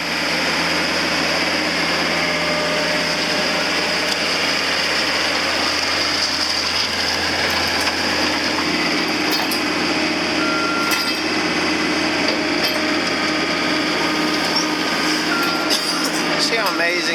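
A John Deere CT332 compact track loader runs with a steady, loud diesel drone and a constant high whine, continuous throughout with no pauses.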